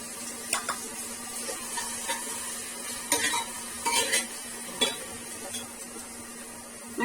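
Tomatoes being stirred in a hot pan on a home stove: a soft steady sizzle underneath occasional scraping clicks of a spoon against the pan, close and moderately quiet with no voices.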